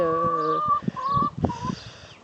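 Hens cluck and call close by, starting with a drawn-out tonal squawk followed by a run of short, choppy clucks and bursts of varying pitch.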